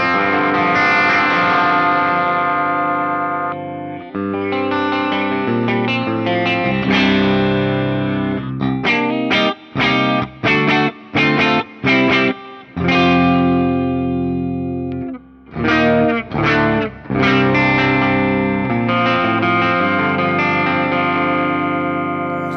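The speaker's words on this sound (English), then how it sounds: "So here's the 2017 guitar. It should sound pretty much exactly the same." Heavily distorted electric guitar, a 2017 PRS SE Mark Holcomb, plays sustained chords and choppy stabs, loud and saturated with effects, with no voices.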